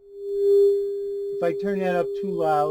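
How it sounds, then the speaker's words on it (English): A steady sine-wave test tone plays through an audio device being checked for noise, distortion and dropouts. It holds one constant pitch and swells early, then someone talks over the continuing tone. "We're going to feed a sine wave so we can observe any problems with this wave as far as noise,"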